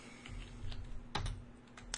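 Typing on a PC keyboard while a BASIC program is entered on a Color Computer, with soft scattered keystrokes and one sharper clack midway over a steady low hum, close and fairly quiet, with no voices.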